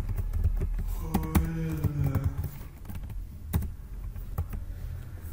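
Rapid clicking of computer keyboard keys being typed while a PHP script is written, steady and fairly close, with brief pauses and a few sharper, louder key strikes.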